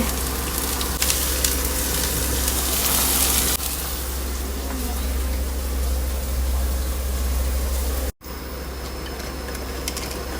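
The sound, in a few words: onion frying in oil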